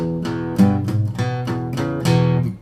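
Strummed electric guitar chords of a 12-bar blues in E repeat in a steady shuffle-like pattern, several chord changes over a couple of seconds, clear and fairly loud, no voices.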